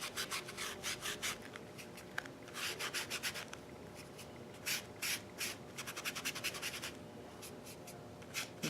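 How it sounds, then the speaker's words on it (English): A cotton ball rubs chalk pastel onto a paper envelope in quick, soft scratchy strokes, close and quiet, repeating in short rhythmic bursts. "I'm just going to rub on that chalk pastel, and I'm going to go around, add some color"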